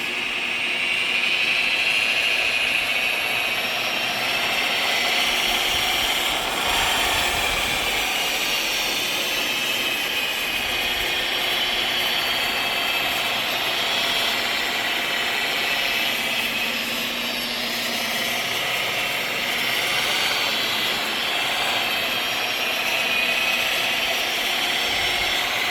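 An Alloyman rotary buffer polisher with a wool pad runs: a loud, steady, high-pitched motor whine, close and continuous throughout, with slight shifts in pitch as the pad drags.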